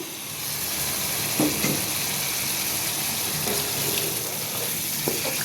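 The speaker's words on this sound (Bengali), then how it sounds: "আমি আলু আর মূলাটা দিয়ে দিয়েছি এটা এখন শর্টে করে নিব বেশ করে সটে করে নিয়েছি" Potatoes and radish sauté in a hot pan with a steady, close sizzle, broken by a few scraping stirs.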